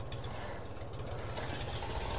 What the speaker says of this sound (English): Tractor is running.